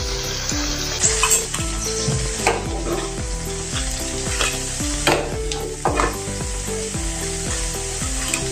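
Mung dal bread snacks sizzle steadily while frying in hot oil, a continuous close crackle with occasional stirring clinks and no talking.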